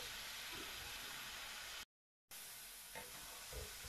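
Garlic frying in a pan, giving a steady, even sizzling hiss that cuts out briefly before resuming with a few faint pops and clinks.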